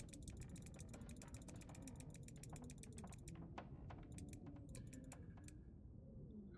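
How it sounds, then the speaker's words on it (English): Rapid clicking of a computer keyboard and mouse during a session of The Long Dark, bursts of quick clicks close by over a low game background hum, pausing briefly and then resuming, with no talk. "Apologize for all the clicky noises."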